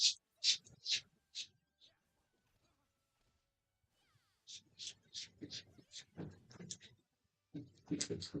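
Bursts of scratching and scraping in loose litter, a cat digging in short rhythmic spurts, then a long quiet stretch, then busier scratching again.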